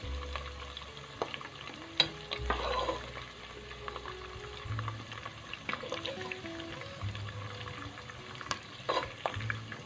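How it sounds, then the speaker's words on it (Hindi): Ingredients for aloo shimla mirch gosht lightly frying in a pan, a low steady sizzle broken by intermittent scrapes and clinks of a spoon, quiet and near, with no speech. "और हल्का सा फ्राई करने के बाद इनको हम निकाल लेंगे"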